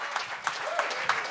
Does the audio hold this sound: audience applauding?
yes